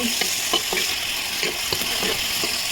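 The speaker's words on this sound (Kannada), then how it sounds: "ಒಳ್ಳೆ ಫ್ರೈ ಆಗ್ತಾ ಇದೆ ನೋಡಿ" Egg masala sizzles and fries steadily in a pan over a wood-fired stove, a continuous close hiss broken by regular scraping stirs of a spoon.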